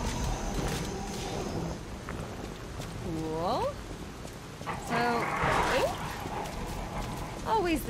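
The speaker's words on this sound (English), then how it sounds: "Dogs in these games." Dogs barking in the video game Lies of P, a few sharp separate yelps and barks at mid distance over steady ambient noise, with a rising whine-like bark near the end.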